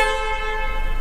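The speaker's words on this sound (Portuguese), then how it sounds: "Toque perfeito, buzina original, buzina forte" The original horn of a Volkswagen Polo Highline blares steadily and loudly with a bright, buzzy tone, held without a break from start to finish.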